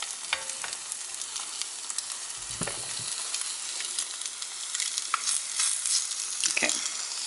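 A sunny side up egg frying in a pan gives a steady close sizzle and crackle with occasional pops and a few soft scraping stirs, and no talking.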